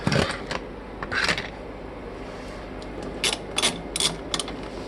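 A ratchet loosens a bolt on a small Harbor Freight Stormcat generator, giving short bursts of rapid clicking, a pair near the start and several more toward the end, close and fairly loud.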